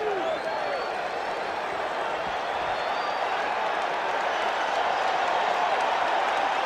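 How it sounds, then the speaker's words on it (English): Loud, continuous roar of a packed Shea Stadium crowd during a World Series Game 6 between the Boston Red Sox and New York Mets, a broad wash of cheering and clapping with whistles rising above it. "Boy, this crowd came here to make some noise tonight."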